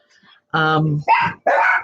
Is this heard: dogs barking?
yes